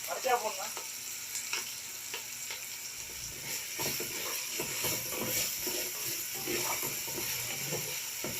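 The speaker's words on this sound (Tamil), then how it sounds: "உலர் திராட்சையும் போட்டு விட்டு நல்லா ஒரு கிண்டு கிண்டிடுங்க" Raisins frying in oil for kuska rice, stirred in a pan with repeated scraping, clattering strokes over a continuous sizzle, close and fairly loud throughout.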